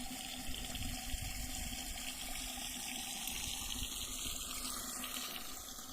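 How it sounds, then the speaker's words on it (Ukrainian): Water streams steadily from holes in a garden watering hose onto soil outdoors, a continuous soft hiss and splash with no talk over it. "А ось і водичка вже ліється з тих отворів і тут ось поливає."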